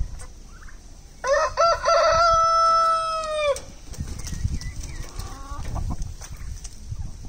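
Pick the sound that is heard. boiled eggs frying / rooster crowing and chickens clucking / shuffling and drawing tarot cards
rooster crowing and chickens clucking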